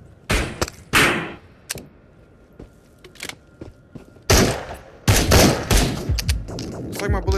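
Gunfire in the VR survival shooter Into The Radius: a burst of loud, sharp close shots at the start, scattered single cracks and thumps in between, then a heavy rapid volley near the end.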